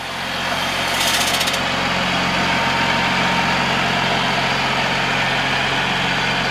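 A 2008 Freightliner Business Class M2 106 truck with a 220 horsepower ISB 6.7 Cummins turbo diesel idles steadily and loudly nearby, a constant low rumble with a brief brighter rattle early on.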